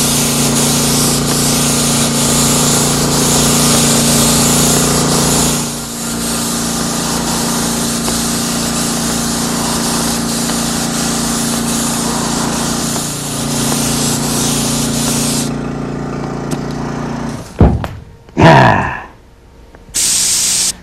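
A spray gun applies a lacquer coat to a white chair, hissing loud and steady for about fifteen seconds. It then cuts off into quiet, followed by a few short bursts and handling noises.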